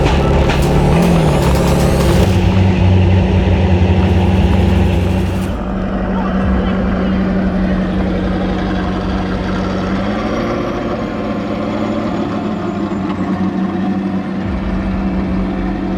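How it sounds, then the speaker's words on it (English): A loud Pro Light off-road racing truck engine roars steadily throughout, shifting pitch as it revs and settles, with no voices over it. "Johnny, you were driving a wide truck out there."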